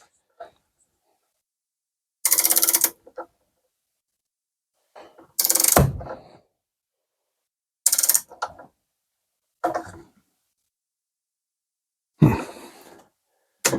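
A wrench tightens bolts on solar panel switch gear in bursts of ratcheting, grinding effort, five or six separate strokes with near silence between them, close and fairly loud.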